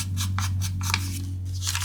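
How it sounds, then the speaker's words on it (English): An inked sponge is rubbed around the edge of a paper page during journal making, giving a series of close, scratchy swiping strokes over a low steady hum. "I'm just going to run my sponge, which obviously needs a little bit more ink on it, and I'm going to just go around the edge"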